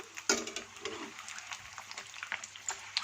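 Samosas deep-fry in hot oil, giving a faint, continuous bubbling sizzle with small crackles and a brief knock at the start, heard close but quiet.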